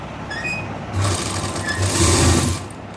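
A sewing machine stitches a neckline design on fabric, its motor whirring in short bursts that speed up and then stop, close and clear with no one talking.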